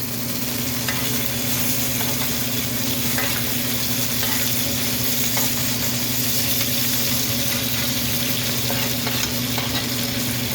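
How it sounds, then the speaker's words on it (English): Steak sizzles loudly in a hot pan as it is basted with melted butter and garlic, a dense constant frying crackle with faint scraping under it, close and steady throughout, no voices. "Trick you guys can do too is put the garlic right on top and then baste it with that butter"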